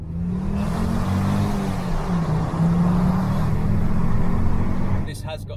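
A Ford S-Max with the 2.5T Volvo five-cylinder engine and a full stainless steel exhaust drones steadily from inside the car, a low rumble at a fairly constant speed with a slight rise partway, before it fades near the end.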